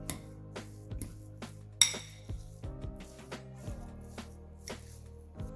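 Mashed potatoes mixed with cheese and dried parsley in a bowl, a spoon tapping and clinking against the sides in quiet, irregular strokes with soft squishing between; no one talks.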